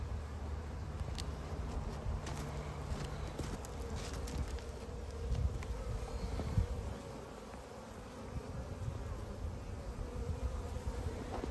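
Honeybees swarm around blooming apricot trees in spring while a colony carries in pollen, making a steady, dense outdoor buzz that holds for the whole stretch with no voices.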